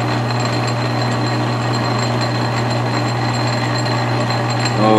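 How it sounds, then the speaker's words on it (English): A metal lathe takes a small cut while building an ER collet chuck, a loud steady motor hum and whine with a constant mechanical drone, rising slightly at the very end. "There's our cut. Disengage, shut off our lathe."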